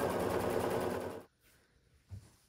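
A sewing machine stitches pieces of a Flying Geese quilt together in a dense, rapid whirring burst for just over a second, then stops abruptly, followed by near silence and a soft thump.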